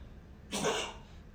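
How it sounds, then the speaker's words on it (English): A dog gives a single short, harsh cough in a quiet room, lasting about half a second before fading to silence. "that's my dog coughing"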